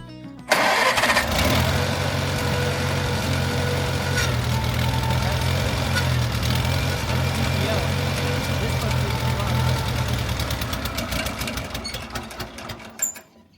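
A 1950s Farmall tractor engine cranks, catches and settles into a loud, steady, close idle for about ten seconds before dying away, with a voice speaking briefly over it.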